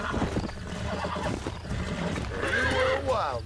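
A horse in the Red Dead Redemption video game whinnies loudly near the end, a rising then falling neigh, after steady clip-clop of hooves and a busy game soundscape, with a voice briefly mixed in.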